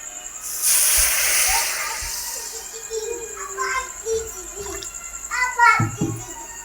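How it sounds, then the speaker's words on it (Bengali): Water poured into a hot kadai gives a loud, hissing burst that fades over a couple of seconds, followed by voices talking close by. "এবার কড়াইতে একটু জল দেবো।"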